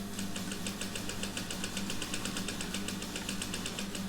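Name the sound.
sewing machine stitching around a shower cap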